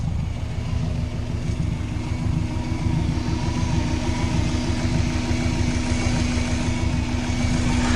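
A Subaru engine that has been converted to turbocharging runs at its first start. It idles steadily and loudly close by, with a rapid even pulsing and a constant tonal whine, and no talk.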